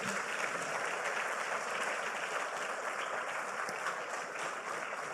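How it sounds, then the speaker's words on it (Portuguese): A church congregation claps together in sustained, dense applause, steady and fairly loud throughout with no pauses. "Vamos aplaudir esse Deus."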